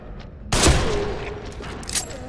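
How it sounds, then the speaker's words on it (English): A single loud sniper rifle shot in the horror video game The Evil Within, a sharp close blast with a long reverberant tail and a faint metallic click afterward. "Let's try the sniper rifle."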